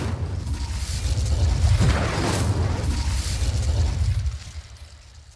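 Incendio fire spell cast in the Hogwarts Legacy video game, a rushing fiery whoosh that swells into a muffled boom and roar, then fades over a few seconds.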